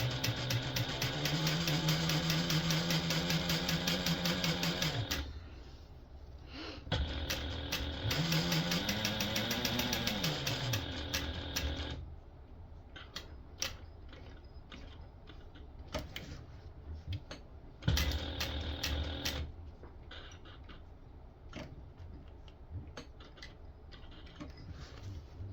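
Sewing machine stitching a tote bag, a buzzing motor hum in long runs with short stops and restarts, including back stitches, then quieter intermittent mechanical clicks and whirs near the end.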